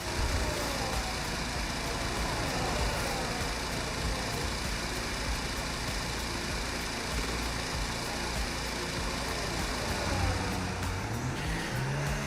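Formula 1 car engine in a racing video game, a steady, continuous engine drone held at a constant level throughout as the car drives out onto the track, with pitch climbing near the end.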